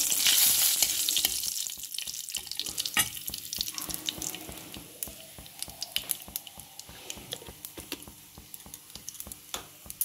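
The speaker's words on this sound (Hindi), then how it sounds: "तो मैं जीरा का तड़का लगाऊँगी, देखिए थोड़ा सा ये गर्म हो जाए।" Cumin seeds fry in hot oil for a tadka, a close crackling sizzle peppered with sharp pops and spatters that thin out over time, with some watery splashing early on.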